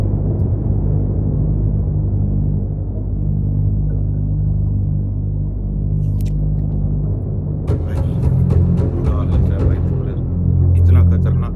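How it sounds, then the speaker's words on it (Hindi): Storm winds batter a ship crossing the Drake Passage toward Antarctica, a loud continuous low rumble and roar with scattered clattering knocks and creaks toward the end. "पूरा तूफान आया हुआ है"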